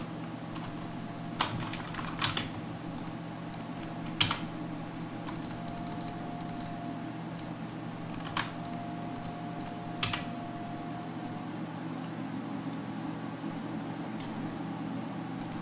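Keystrokes on a computer keyboard enter a sudo command in an Ubuntu 18.04 terminal, quiet scattered clicks arriving in short bursts with pauses over a faint steady hum.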